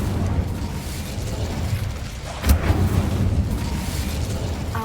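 An Incendio fire spell cast in Hogwarts Legacy: a brief whooshing burst with a low boom over a continuous rumbling ambience, no talking.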